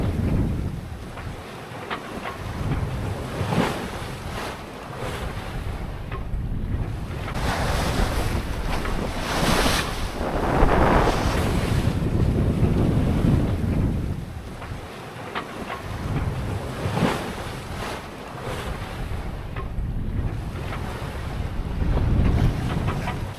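A 33-foot sailboat sailing offshore on the Pacific Ocean, with steady wind buffeting the microphone and waves surging and rushing past the hull in slow swells, loud and continuous with no voices.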